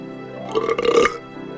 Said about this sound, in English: He even burped loudly when he finished.